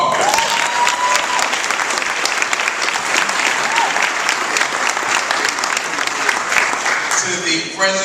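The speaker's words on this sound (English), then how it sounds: "Please give the great Rotary Club of Long Beach a round of applause." An audience at a Rotary Club of Long Beach gathering breaks into loud, sustained applause, a dense wash of clapping filling the room for about eight seconds before tapering near the end.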